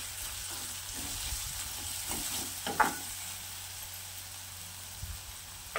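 Sprouted-bean stir-fry being tossed in a pan with half a spoon of turmeric powder and a spoon of salt, a low steady sizzle with soft scraping stirs and a couple of brief clinks, no talking.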